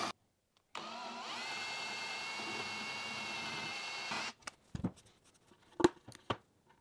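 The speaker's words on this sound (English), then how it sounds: "let me drill those other three holes." A power drill bores a hole into a wooden DIY serving tray, a steady whirring run of a few seconds that stops abruptly, followed by clicks and clunks of handling.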